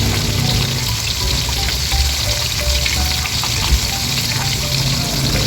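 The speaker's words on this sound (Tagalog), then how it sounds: "Ito po yung isda na ating ipiprito." Fish fries in a pan of hot oil, a loud, dense, continuous sizzle close up that holds steady throughout with faint bubbling and no talking.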